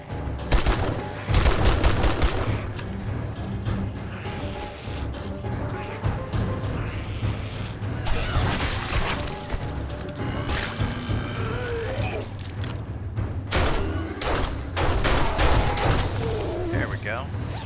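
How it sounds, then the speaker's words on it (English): Gunfire rings out in the zombie survival game 7 Days to Die during a blood moon night, with sharp repeated shots in uneven bursts over rumbling game ambience and growls, while players talk over it. "We're gonna shoot him this time."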